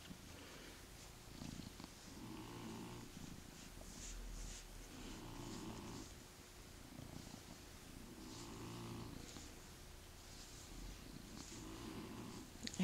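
A flame point Siamese cat purring softly and steadily in slow rhythmic cycles, quiet and close, with no talking.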